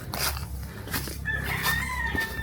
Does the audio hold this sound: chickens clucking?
yes